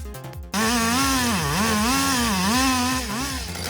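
A large chainsaw revs up after a brief clatter and then bites through a tree, its loud engine whine rising and falling as the cut progresses, close and alone.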